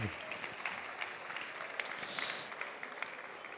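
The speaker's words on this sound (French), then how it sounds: "On peut les applaudir collectivement." A ceremonial audience applauds steadily through the clip at an award presentation, a dense, fairly quiet wash of clapping with no voices on top.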